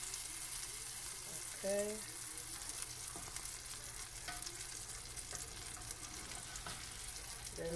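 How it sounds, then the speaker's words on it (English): A spinach omelette fries in a pan with a steady hiss while a spatula scrapes and taps around the pan's sides; a voice speaks briefly near the start. "you use your spatula now and go at the sides of your pan"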